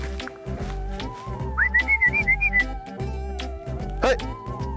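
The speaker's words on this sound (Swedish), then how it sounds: "Jag kommer försöka vissla upp de här på benen." A hunter stalking black fallow deer gives a short run of sharp, rising whistle notes, several in quick succession and close by, over a steady low hum and faint background noise.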